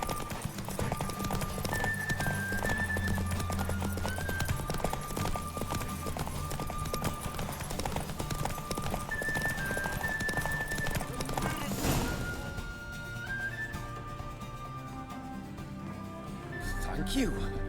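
Hooves clip-clop steadily in a galloping rhythm from a horse in The Witcher 3, with game music and ambience underneath, fading somewhat near the end.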